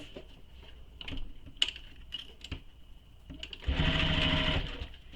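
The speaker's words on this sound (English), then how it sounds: "we will sew this with the seam allowance given in the pattern. You'll stitch directly over your previous stitches." A sewing machine stitches fabric directly over earlier stitches, beginning with a few sharp clicks and taps before a steady, close whirring run of stitching near the end.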